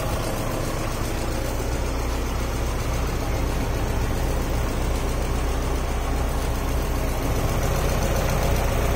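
A Honda Civic with an H2B engine swap idles steadily and loudly for the whole stretch, its worn, overtightened belt adding a constant whine and rattle over the low engine drone.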